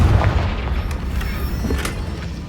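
A Confringo fire spell explodes in the video game Hogwarts Legacy, making a loud, low rumbling boom that sustains heavily through the whole moment with crackling debris on top.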